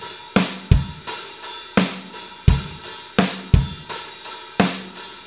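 Looping drum beat with the kick drum shifted to the and of 2, giving about a dozen punchy hits in a syncopated pattern, close and dry, with snare-like cracks decaying between kicks and no talking.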